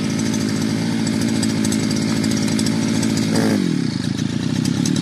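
Small petrol string trimmer engine with a new head and line runs loud and raspy, chainsaw-like, then drops in pitch and falters near the end as it bogs down toward stalling.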